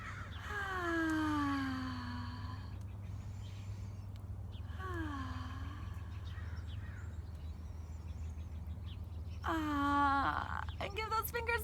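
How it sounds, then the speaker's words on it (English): Crows give three separate loud, hoarse caws, each a descending drawn-out cry, over a steady low hum in a quiet outdoor setting. "I see some birds, some crows flying."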